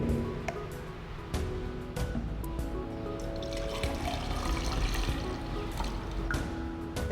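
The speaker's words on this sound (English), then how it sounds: "We now pour this 250 milliliters water into this 1 liter measuring cylinder." Water poured from a 250 milliliter measuring cylinder into a 1 liter measuring cylinder in a classroom demonstration, a steady close trickling and splashing that runs for several seconds with faint clinks.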